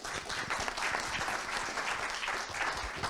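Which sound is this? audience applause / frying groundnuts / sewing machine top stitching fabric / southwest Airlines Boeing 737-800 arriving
audience applause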